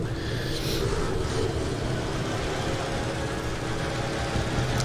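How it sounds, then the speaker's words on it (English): An enemy vehicle's engine in a desert street battle video game gives a steady, muffled low rumble, constant and moderately distant beneath a broad wash of background noise. "I'm hearing his engine, but he obviously didn't hear mine."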